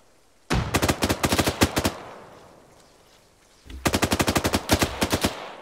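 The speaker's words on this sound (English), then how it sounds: "Keep fucking shooting." Light machine gun fire in Arma III: two loud, close bursts of rapid rhythmic shots separated by a fading echo, with no talking.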